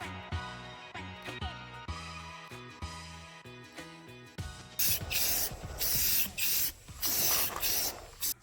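Spray paint hissing from an aerosol can in a series of short bursts during a DIY wooden slat accent wall build, close and fairly loud, following a stretch of rhythmic background music.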